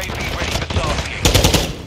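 Rapid machine gun fire in the shooter Call of Duty Modern Warfare 2, loud and close, with a dense burst of rattling shots that grows heavier near the end amid in-game radio chatter.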